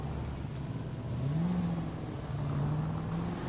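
A car driven by the player in the L.A. Noire video game hums along at a low, steady engine pitch that rises gently twice, with no voices over it.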